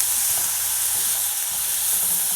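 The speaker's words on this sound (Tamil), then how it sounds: "பருப்பு வந்து ஒரு நிமிஷம் இதை வந்து லைட்டாக வதக்கிடலாம்." Soaked lentils being lightly sautéed in a pan for a spinach poriyal give off a steady, loud, close sizzling hiss that runs unbroken, with faint stirring underneath.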